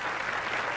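A packed standing-room crowd applauds at Bradley Bowl during a 1991 professional bowling tournament match, a brief, dense burst of clapping heard up close.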